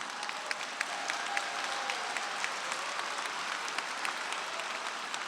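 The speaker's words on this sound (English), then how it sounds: "have one more round of applause for our graduates" A graduation ceremony crowd gives sustained applause for graduates, a dense steady patter of many hands clapping with a few sharper claps standing out, and no talk over it.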